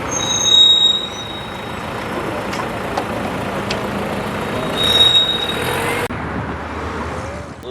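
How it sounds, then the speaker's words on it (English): A CSX train slowing to enter Hialeah Yard in South Florida, a steady loud rumble of railcars rolling past with a high wheel squeal ringing over it, fading at the end. "The train is slowing down to enter CSX's Hialeah Yard"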